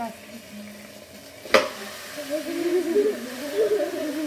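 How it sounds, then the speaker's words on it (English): Carne guisada sizzles in a pan after a sharp clink, a steady frying hiss that builds over the last few seconds. "I'm kind of scared because what if it's going to sizzle?"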